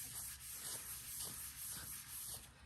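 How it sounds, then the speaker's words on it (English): Cloth soaked in rubbing alcohol wiping across silicone practice skin in quick, repeated rubbing strokes, close and quiet with no one talking. "pick up some rubbing alcohol so that you can clean your silicone"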